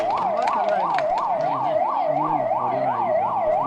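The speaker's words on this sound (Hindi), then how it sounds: "एक बार ये एम्बुलेंस को रास्ता दे दीजिए सब लोग" An ambulance siren wails in a rapid, regular rising-and-falling cycle, loud and close, sounding continuously over faint low background noise.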